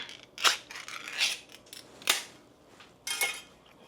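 A tin of Spam is cracked open in a home kitchen, giving three or four sharp, bright metallic clicks and pops spaced about a second apart, close and fairly quiet with no talking.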